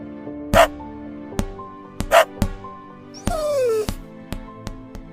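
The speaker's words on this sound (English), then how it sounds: "He likes to play in the yard with his dog Emma" A small dog gives sharp yips and barks, a few spaced short bursts plus a rising whine, close and clear against an instrumental backing.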